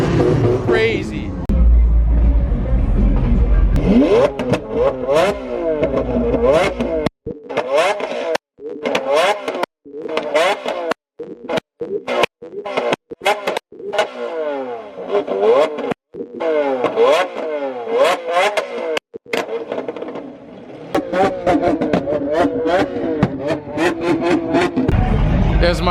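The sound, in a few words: sports car revving with aftermarket exhaust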